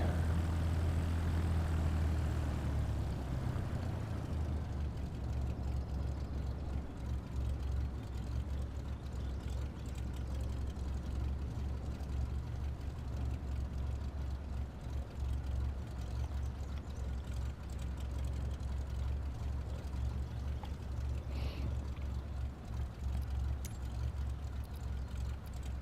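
A Cessna propeller engine idles and rumbles while taxiing in Microsoft Flight Simulator 2024, a steady low drone throughout, with a brief higher engine note at the start.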